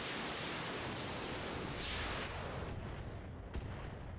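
Heavy weapons fire from battle mechs aimed at a Blackjack mech in the strategy game Roguetech, heard as a dense roaring wash of blasts with a sharper impact near the end.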